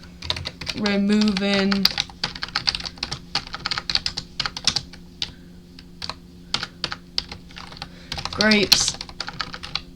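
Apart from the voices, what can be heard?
typing Python code on a computer keyboard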